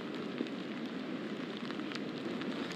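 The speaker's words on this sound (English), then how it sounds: "we're still having some sprinkles, but we are still sacked with some very, very strong wind out here by the beach" Light rain and strong wind at a Virginia Beach shoreline during Tropical Storm Ophelia produce a steady, dense hiss and roar with scattered patter, continuous and even throughout.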